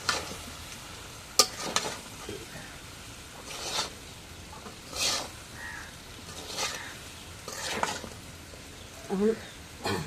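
Green jackfruit curry being stirred in a pot, with irregular scraping strokes and soft sizzling spread over the stretch and occasional faint voices in the background.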